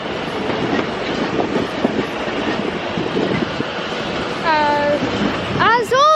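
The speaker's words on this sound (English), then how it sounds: "As 197114 behind me is now departing to Chester" Class 197 diesel multiple unit 197114 pulls away from Crewe station towards Chester, a steady rumble of wheels and engine with two loud rising horn blasts near the end.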